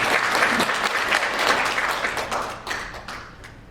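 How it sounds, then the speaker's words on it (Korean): A church congregation applauds to welcome a visiting pastor, dense clapping filling the room at full strength before thinning out toward the end. "우리 박수로 하나님께 영광을 올리며 임준 목사님 맞이합니다."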